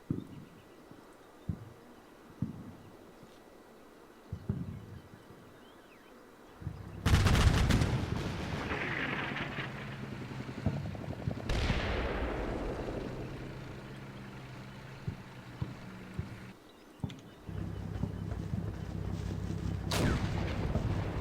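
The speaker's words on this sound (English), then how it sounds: "Whoa, that was a tank. That was a tank. What did that tank shoot at?" A tank fires its cannon in a Ukraine war campaign video game: one heavy, booming blast with a long rumbling tail, followed later by another sharp boom, amid scattered quieter gunshots and distant battle noise.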